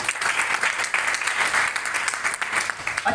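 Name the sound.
loud audience applause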